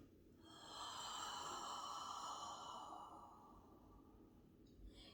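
Slow, audible breaths drawn in through the nose and pushed out through the mouth during a Pilates mat exercise: one long airy inhale swells and then fades into a softer, drawn-out exhale, close and fairly quiet with no talking.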